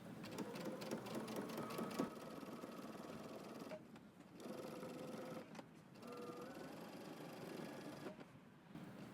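A sewing machine stitches pin tucks in a pants project, a fast rhythmic whir running in several bursts with brief pauses between runs, fairly close and quiet.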